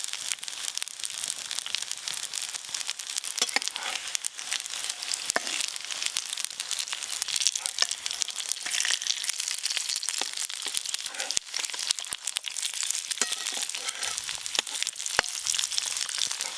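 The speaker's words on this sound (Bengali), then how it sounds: "আবারও 3 পিস ভেজে নেব।" Pieces of semolina dough fry in a pan with a steady, dense sizzle and crackle that runs without a break.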